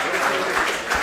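Steady applause from an audience at an award and graduation ceremony for a children's mental arithmetic competition, a dense wash of clapping that keeps up without a break.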